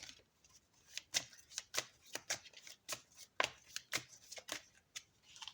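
Oracle cards being shuffled by hand, a quick series of crisp riffling slaps and flicks repeating at a steady pace, close and fairly quiet with no talking.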